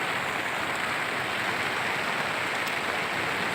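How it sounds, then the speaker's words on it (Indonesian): Rain falling on a tent during an overnight camping trip, a steady, even hiss of light rain that continues unbroken with no voices. "Di luar nih kena hujan"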